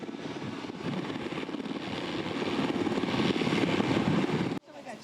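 A military helicopter drones steadily during a fast-rope descent at an army and police anti-terror drill at an oil company site in Ulsan, a loud continuous rotor and engine roar that builds over several seconds, then cuts off abruptly.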